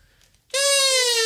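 A homemade comb wrapped in baking paper is hummed through, and after a brief quiet moment it gives one loud, steady, reedy buzzing note held for under a second.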